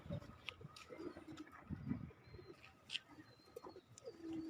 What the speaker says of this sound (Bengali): কবুতরগুলা সারি সারি বসে আছে, দেখেন কত সুন্দর